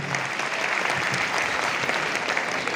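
Sustained, dense applause from an audience at a convent school's cultural program, steady and fairly loud throughout with no speech over it.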